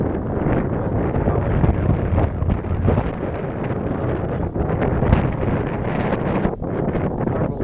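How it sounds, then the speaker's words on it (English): Strong wind blows across the microphone on a flooded waterfront, a loud continuous roar with gusty buffeting throughout and no voices. "Very windy today, which, believe it, is a good thing because it pushes the water out."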